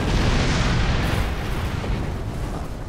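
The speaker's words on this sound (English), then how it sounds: "Now fire photon torpedoes" Photon torpedoes fired in a starship battle, a loud booming explosion that hits at once and rumbles on, slowly thinning over a few seconds.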